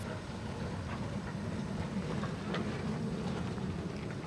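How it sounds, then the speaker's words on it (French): A Mallet steam locomotive hauls a train on the Abreschviller tourist railway, a steady low rumble that continues throughout, mixed with wind buffeting the microphone. "La locomotive Mallet, qui assure encore aujourd'hui des trains, a été construite spécifiquement pour circuler sur le réseau."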